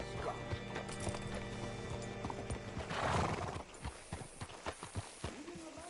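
Horse in Red Dead Redemption 2 gives a loud whinny, then hooves clop unevenly close by, over a continuous low ambient background.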